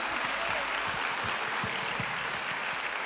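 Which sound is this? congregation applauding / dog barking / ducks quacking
congregation applauding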